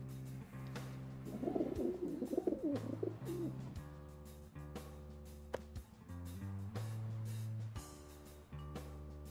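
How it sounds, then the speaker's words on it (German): Pigeons coo in the point-and-click video game Randal's Monday, a burst of soft, throaty cooing rising over a steady bed of low game music with intermittent clicks. "Was mit den Tauben oder so?"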